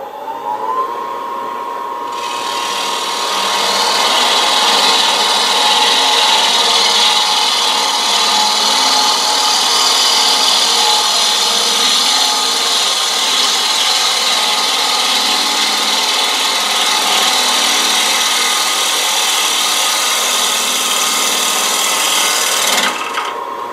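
A lathe tool used in a scraping fashion on the tenon of a small walnut bowl, giving a loud, steady, sustained rasping hiss with a faint whine that runs unbroken for more than twenty seconds before stopping abruptly, with no talking.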